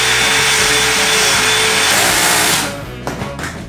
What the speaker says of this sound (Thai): เวลาที่เราเปิดหมวดสว่านนะอย่าไปเปิดแรงบิดสูงๆนะครับเวลายิงเข้ากับพวกโครงฝ้าพวกนี้ให้ใช้หมวดที่เป็นแรงบิด